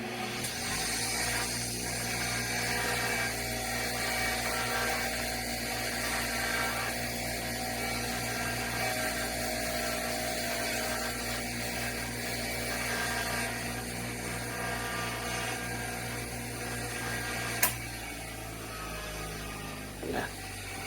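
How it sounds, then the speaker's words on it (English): Steady, close grinding whir of a wire wheel scrubbing corrosion off the threads of a bolt from a 1997 Vespa P200E, continuous and loud for about twenty seconds, with a brief sharp click near the end. "Just clean the threads on the wire wheel."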